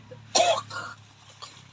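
A single sharp, raspy cough close by, followed by a brief softer throaty sound.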